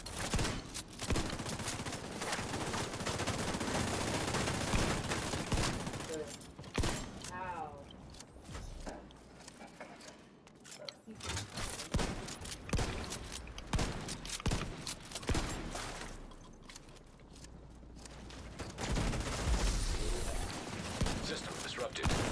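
A video game firefight keeps up a constant wash of dense, rapid gunfire and clattering effects for most of its length, with a brief lull midway, while a voice talks now and then underneath.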